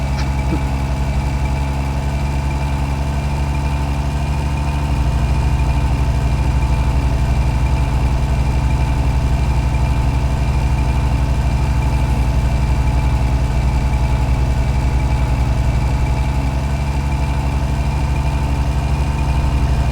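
A car engine in the My Summer Car video game, driven in fourth gear, with a loud, steady, low droning hum and even tonal layers lasting the whole stretch, and a slight shift in pitch after a few seconds.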